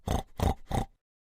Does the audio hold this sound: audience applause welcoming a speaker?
no